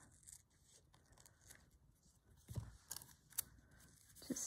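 Small scissors trimming a felt wing for a Christmas wreath craft, heard as faint, scattered snips and light cutting sounds over a quiet room background, growing a little more frequent toward the end.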